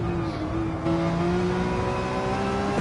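A GT3 race car in a racing video game at Big Willow accelerates downhill, its engine note rising steadily in pitch with a brief shift-like step, loud and close, with no talk over it.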